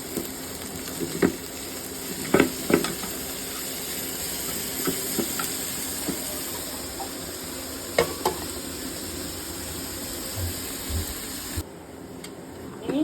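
Spice powder frying in a pan in a traditional village kitchen, a continuous hissing sizzle with occasional scraping stirs and clinks, steady throughout until the sizzle thins near the end.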